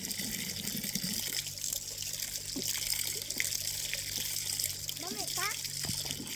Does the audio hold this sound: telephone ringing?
no